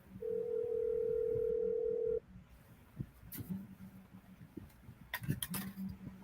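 A phone call's ringing tone sounds as a steady, loud electronic tone for about two seconds, then cuts off, leaving quiet room noise with scattered clicks and knocks.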